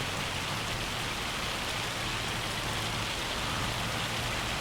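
Rain falling in the Farming Simulator 25 video game, a dense, even hiss of steady downpour that holds constant throughout with no talk over it.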